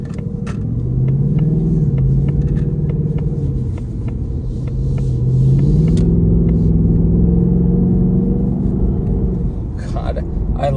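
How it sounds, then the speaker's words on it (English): A car's engine and exhaust rumble steadily at idle and low revs, with a couple of gentle rises in pitch as it pulls away, heard from inside the car while someone talks briefly. "I love this engine, man."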